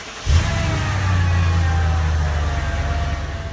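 A Mercedes SL55 AMG fires up from inside the car, a sharp crank-and-catch followed by a deep, steady idle rumble that holds close and loud.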